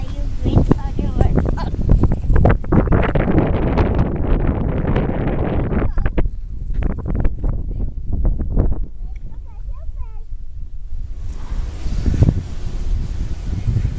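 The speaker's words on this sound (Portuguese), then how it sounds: "Olha o vento que tá aqui." Strong wind roars steadily into the microphone outdoors, buffeting and rumbling with gusts, as a homemade kite-like paper toy flies in the gale; no clear talk stands out over the noise.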